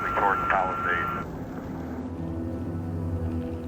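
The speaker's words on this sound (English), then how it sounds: "We could see the planes dumping water. They flew right over the houses in front of us" Firefighting planes pass over houses during a brush fire near the Palisades in Los Angeles, a broad engine drone that fades into a low rumble while a voice talks over the start.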